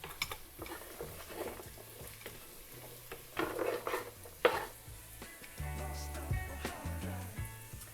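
Zucchini, carrots and cabbage stir-frying in a pan for Korean black bean noodles, with a soft sizzle under repeated scrapes and clinks of a utensil against the pan, heard up close and fairly quiet.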